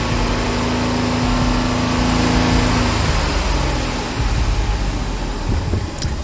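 A Ford 1.0 EcoBoost engine with an oil light fault runs close and loud as throttle is applied, its steady drone shifting as the revs change, with no one talking.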